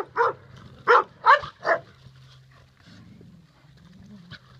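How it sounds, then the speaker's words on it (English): A puppy barks four times in quick succession near the start, followed by quieter whimpering sounds over a low steady hum. "This is the little troublemaker, Aspen the puppy."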